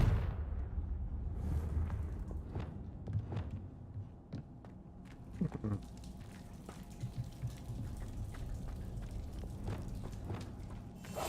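In Hogwarts Legacy, Confringo blasting spells go off as a series of booming bursts and crackling impacts over a rumbling game soundscape, fairly loud and repeated at irregular intervals.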